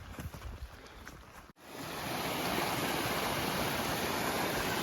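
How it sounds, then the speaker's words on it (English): Water from a spring emerging beneath a hiking trail in Jasper National Park's Breccia Creek area rushes steadily; a soft trickle swells after a brief gap into a loud, continuous broadband wash close by. "Pretty decent amount of water coming from underneath the trail, right out of nowhere."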